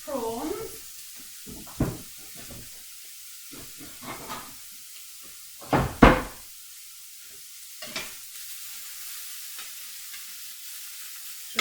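Prawns sizzle in a hot pan and are lifted out one by one, with a low frying hiss under sharper scrapes and spikes of spitting fat, close by and uneven, while a person talks briefly at the start.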